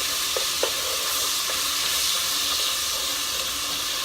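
Quick stirring of sofrito and garlic in a hot pot, a steady close sizzle and hiss with a few faint spoon scrapes, no talking.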